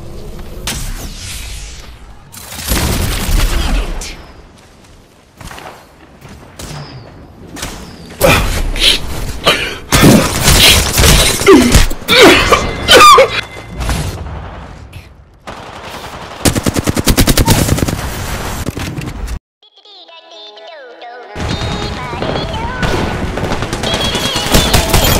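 Video game gunfire striking the player character, with loud rapid machine-gun bursts and repeated shots in clusters across the stretch, broken by brief pauses and thuds.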